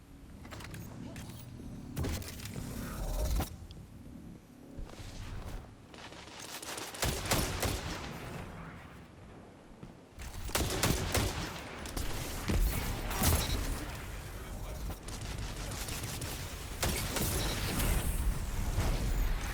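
Rapid gunfire from teammates in a first-person shooter game, bursts of shots crackling in uneven clusters with mechanical clicks between them, fairly close and loud, fading quieter mid-way before heavier firing resumes.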